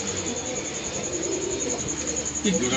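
A pair of pigeons coos softly in a loft, low burbling calls near the end over a steady background hum, with faint talk in the room.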